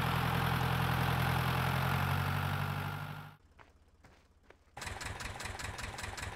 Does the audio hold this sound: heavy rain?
no